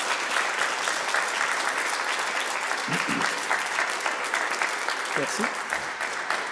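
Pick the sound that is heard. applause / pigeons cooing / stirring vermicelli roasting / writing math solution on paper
applause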